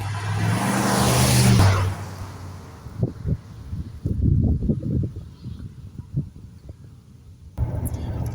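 A 1993 Dodge Dakota dually pickup truck engine revs loudly at first, then drops to a lower idle with intermittent thumps and rumbles, nearby and with no speech.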